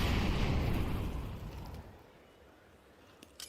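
A grenade blowing up in Counter-Strike during a Vitality versus NAVI grand final: one loud rumbling blast that decays over about two seconds, followed by a couple of faint clicks.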